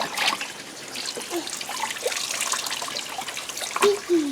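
Water running and trickling while something is rinsed, an uneven splashing flow close by, with brief vocal sounds mixed in.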